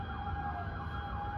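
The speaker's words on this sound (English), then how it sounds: "There's lots and lots of sirens going off." Fire engine sirens wail steadily outside, a continuous sustained tone over a low rumble of traffic, heard from indoors at moderate distance.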